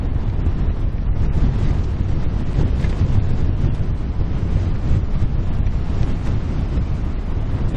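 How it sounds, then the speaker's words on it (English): A stiff breeze blows over a boat anchored on the BC coast near Johnstone Strait, making a loud, steady roar of wind buffeting the microphone throughout, with no talking. "that's pretty stiff breeze blowing"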